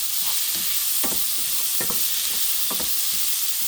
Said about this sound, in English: you can hear the nice sizzle that's going on in the pan there